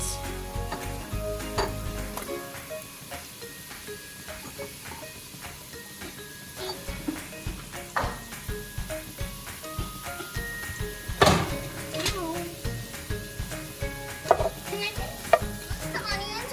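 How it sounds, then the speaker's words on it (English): Onions frying in hot oil in a pot over medium-high heat for homemade chili, a steady close sizzle with repeated stirring scrapes and clinks of a utensil against the pot. "Once the oil is hot, you can put the onions in on medium-high heat."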